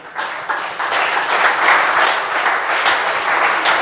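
A church congregation breaks into sustained applause, dense and steady clapping from many hands that rises quickly and holds at full strength throughout, with no talk over it.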